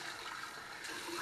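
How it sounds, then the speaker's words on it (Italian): Water runs briefly as a shaving brush is wetted, a soft, steady splashing trickle close by, lasting only a moment. "Bagniamo un attimo il pennello"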